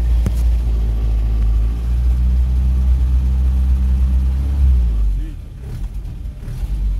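A revived UAZ off-road vehicle, recovered after being submerged in water, idles with a steady low engine rumble that continues for about five seconds, then drops off and is followed by quieter sputtering noise.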